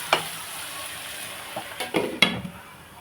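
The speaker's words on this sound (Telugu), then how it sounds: "ఒకసారి మనం తీసుకుని కలుపుకుందామండి ఉల్లిపాయ మగ్గింది కదండి" Salted onions frying in a pan for a drumstick, tomato and cashew curry get stirred, giving a low sizzle under a few close scrapes and knocks of a spoon against the pan, with no talk.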